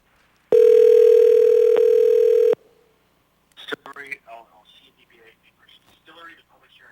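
A loud, steady telephone tone sounds for about two seconds as a call is placed, then cuts off, followed by a voice talking over the phone line.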